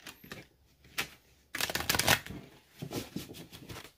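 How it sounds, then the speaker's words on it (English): Tarot cards are shuffled in quick papery bursts: a few short riffles, then a longer louder shuffle, followed by softer repeated flicks. No talking. "One more time shuffle."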